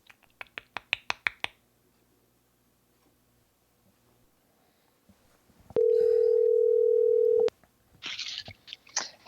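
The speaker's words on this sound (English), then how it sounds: "Let me call Krista." A telephone dial tone sounds steadily for about two seconds while a call is placed. It comes after a quick run of clicking ticks and before a short stretch of speech, in an otherwise quiet room.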